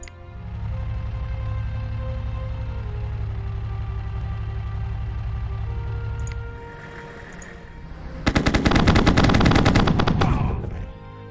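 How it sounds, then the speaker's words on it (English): A Gepard tank's autocannon fires in a video game: a loud rapid burst of shots arrives after a stretch of low vehicle engine rumble, the firing dense and rhythmic for a couple of seconds before fading. "high velocity autocannons on a tank can actually be put to good use against infantry and other vehicles as well"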